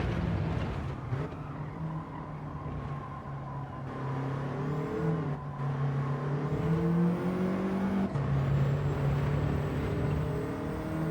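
A race car engine in Gran Turismo 7 held in fourth gear without upshifting, giving a steady, sustained drone whose pitch drifts slightly up and down as the car rolls on.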